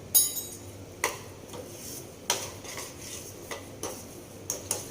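A metal spoon stirs a potato and semolina mixture in a pan for a crispy breakfast, making close, irregular clinks and scrapes against the pan about every half second.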